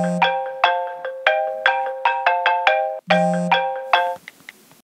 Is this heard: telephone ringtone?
yes